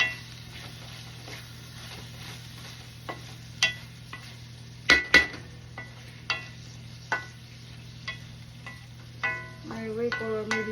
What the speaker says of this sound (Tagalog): Nagpa-fry po ako ng eggplant.